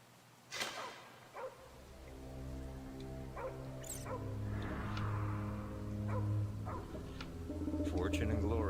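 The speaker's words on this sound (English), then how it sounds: "Freaking dog." A dog barks a couple of times, short yips up close, then quieter sounds continue beneath a steady droning background tone that builds gradually.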